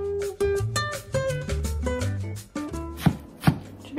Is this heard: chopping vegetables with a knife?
yes